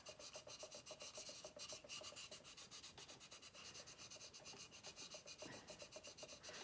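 A 1957 Revell XSL-01 manned space ship plastic model kit is sanded by hand with sandpaper, a quiet, close, steady rhythmic rasp of rapid back-and-forth strokes with no talking.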